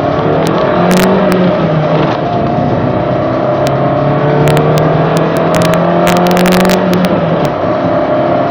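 Renault Tondar 90 or Rana car accelerating hard from 0 to 100, a loud continuous engine roar rising in pitch through several gear changes, with wind buffeting and occasional clicks and no speech.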